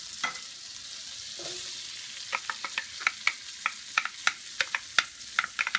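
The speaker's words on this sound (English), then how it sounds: "We'll mix in the Shishito peppers." Onions and Shishito peppers sautéing in butter in a pan, a bright continuous sizzle with a quick series of sharp utensil clicks and scrapes as the mixture is stirred, close and without talk.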